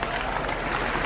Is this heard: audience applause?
yes